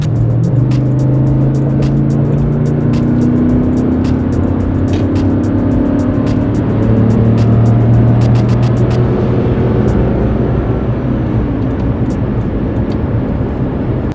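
A 2013 Lexus GX460's V8 engine pulls hard while overtaking, a loud, rising growl with wavering engine tones and rushing road and wind noise that eases off toward the end.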